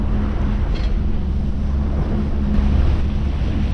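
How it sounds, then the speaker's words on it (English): Steady wind roaring over open water, with a low rumbling drone underneath and faint splashing; continuous and fairly loud throughout. "we got a nice windy day"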